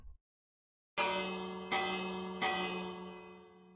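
A village bell in Minecraft 1.14 is struck three times at even intervals after a short silence, each bright metallic clang ringing out and decaying slowly into the next, heard alone.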